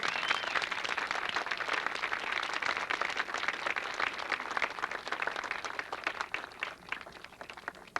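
An audience claps and applauds at a 1992 funding announcement for the John Rose Minnesota Oval, a sustained dense round of clapping that tapers slightly toward the end.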